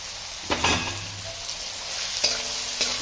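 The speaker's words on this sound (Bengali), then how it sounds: "এই হচ্ছে ম্যারিনেট করা মাংসটা এখন মাংসটা দিয়ে দেবো" Marinated meat dropped into a hot pan for Hakka noodles, with a steady sizzle and frying hiss, broken by a few stirring scrapes and clatters of the pan.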